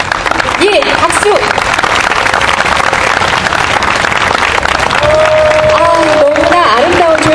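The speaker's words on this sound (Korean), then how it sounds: "예, 여러분 박수 더 힘차게 한우성과 함께 부탁드립니다." Outdoor crowd applause and cheering at a memorial talk concert in front of Daehanmun, Seoul, marking ten years since two schoolgirls were killed by an armored vehicle, steady dense clapping throughout with shouts and an announcer's voice rising over it.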